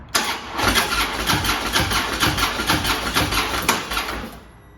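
A motorcycle with fuel pump problems cranks over rapidly in an even, chugging rhythm for several seconds, loud and close, then cuts off without catching.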